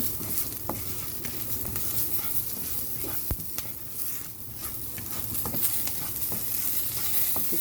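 Asafoetida tempers in hot oil, a soft, continuous sizzle and crackle with occasional light ticks and one sharp clink, fairly quiet and close for a banana flower curry.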